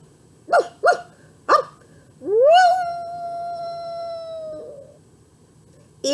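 A human voice imitating a dog singing: three short barking yips, then a long rising and falling howl that holds a steady tone before trailing off.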